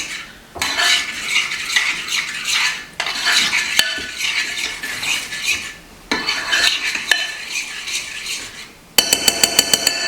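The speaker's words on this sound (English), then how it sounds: "So I'm just gonna stir it all up and make sure that all those chocolate chips get melted in." A utensil stirs melting chocolate chips in a bowl, producing close, loud scraping and clinking in several long bursts separated by short pauses, ending in rapid repeated taps against the bowl.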